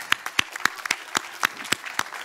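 At a festival closing and awards ceremony, a handful of separate claps ring out at a loose, uneven rhythm. The clapping is faint and fairly sparse rather than a full wave of applause.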